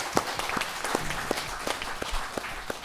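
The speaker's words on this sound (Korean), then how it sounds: "박수로 맞으세요." A small audience at a Buddhist talk program claps to welcome a monk, with scattered, individual claps close by and light crowd noise.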